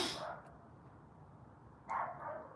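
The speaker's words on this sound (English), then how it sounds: "but no, it's another dog" A dog barks twice, nearby and clearly, once at the start and again near the end, with quiet room noise in between.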